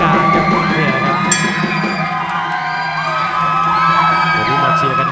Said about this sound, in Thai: วันนี้มาเชียร์กันเพียบเลยครับ